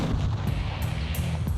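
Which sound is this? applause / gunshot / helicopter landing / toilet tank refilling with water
gunshot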